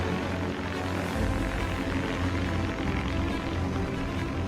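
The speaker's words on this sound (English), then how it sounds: "We are developing and testing Prosperity 1, our air taxi" The Prosperity 1 autonomous air taxi comes in to land after a vertical transition, its rotors giving a loud, steady droning buzz with a hum of propeller tones, continuous throughout and without talk.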